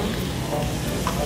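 Barbecue meat on a grill at a Thai barbecue restaurant, flipped as it cooks, giving a steady, dense sizzle that crackles continuously at close range with no talk over it.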